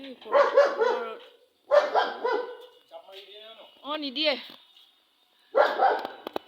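A three-year-old pet dog gives a few short barks nearby, mixed in with people talking close by.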